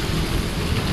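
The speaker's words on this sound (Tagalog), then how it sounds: "Hindi malamig yung ulan." Rain falling steadily outdoors, a dense, even hiss that is fairly soft and continuous, with no voices.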